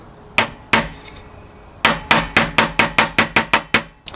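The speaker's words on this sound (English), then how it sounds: "I'm just going to give it a little tappy tap." Sharp metallic taps on a part being seated into a mini split fan motor with worn bearings: two spaced knocks, a pause, then a quick run of about ten even taps, close and loud.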